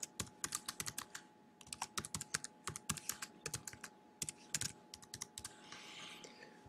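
Quick bursts of clicking keystrokes on a computer keyboard type out a book title in close, crisp rhythm, pausing briefly before a final run and a soft rustle at the end.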